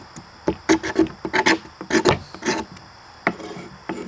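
Wood or tinder being scraped off for a small fire kit, a series of close, rough rasping strokes in irregular bursts, each stroke short and gritty, with no talking.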